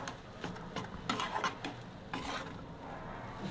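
Kachori masala with dal being stirred and roasted in a pan, making soft scraping and rubbing strokes with a faint sizzle, steady and close with no talk.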